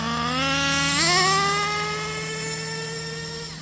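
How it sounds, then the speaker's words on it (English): A small engine run at wide open throttle, slightly over-fuelled, revs up sharply about a second in and then holds a high, steady, buzzing pitch that sags a little toward the end, loud and close with no talk. "Now y'all notice what it did before when I throttled it, wide open throttle."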